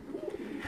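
A Sialkoti pigeon gives a soft, brief throaty coo, close and quiet, with no other sound.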